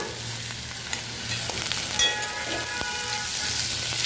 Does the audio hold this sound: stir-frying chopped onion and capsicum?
yes